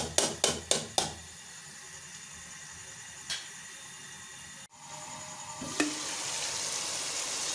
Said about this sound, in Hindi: ये देखें, मसाला हमारा भून रहा है।